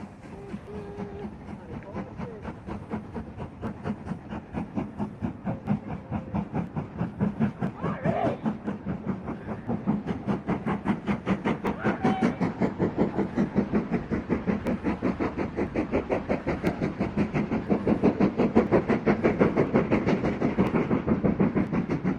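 The Jacobite steam train rolls past at Corpach beside the canal, a steady rhythmic clatter of carriages on rails building slightly louder over time, heard nearby and continuous without talk.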